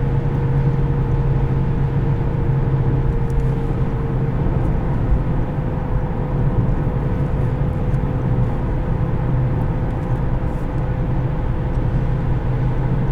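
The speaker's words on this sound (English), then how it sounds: "Ooh, wheel bearing noise." Steady low road drone inside a 2004 Lexus LS430 cruising at highway speed, with a constant hum from a worn wheel bearing blended into tire and wind noise, unbroken and even throughout.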